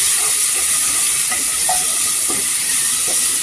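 Ground masala paste fries in oil in a pan for black chickpea chana masala, a steady bright sizzle with a few faint stirring clinks, close and continuous with no voices.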